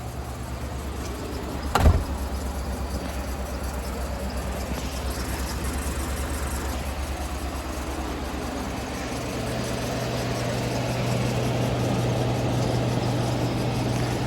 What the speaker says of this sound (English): I just started the truck, but still, bro, that belt is bad.